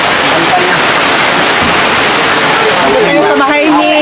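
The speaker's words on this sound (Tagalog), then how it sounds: "Umuulan po." Rain falls steadily in a home garden, a loud, continuous hiss of drops that carries through the whole stretch, with a voice talking over it near the end.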